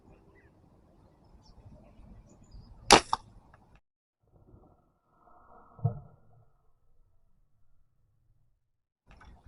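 A shot fired at tilapia in a canal: one sharp, sudden crack near the start, a softer thud a few seconds later, and otherwise quiet outdoor surroundings.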